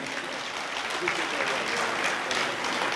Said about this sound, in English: A round of applause for the brother once again.